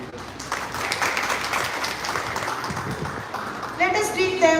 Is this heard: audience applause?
yes